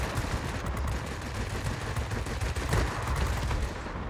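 Rapid, continuous aircraft cannon fire in the World of Warplanes combat flight game, a dense loud rattle of shots over engine roar, sustained throughout without pause.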